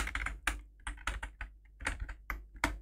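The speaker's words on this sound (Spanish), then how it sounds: "Vale, y ponéis vuestro correo y contraseña." Computer keyboard typed on at a desk while entering an email and password, quick irregular clusters of close, crisp keystrokes with short pauses between bursts.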